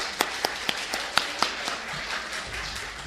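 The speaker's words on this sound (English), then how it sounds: "A round of applause." Scattered applause at a general meeting greets a newly elected board of officers: a few distinct, fairly faint claps ring out in an irregular string, then fade into room noise.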